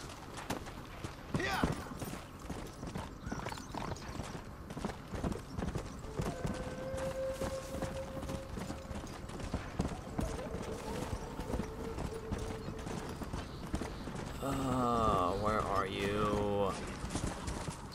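Horse hooves clip-clopping steadily in Red Dead Redemption, a continuous rhythmic trot mixed under game music and ambience, with a neigh near the end and voices talking over it.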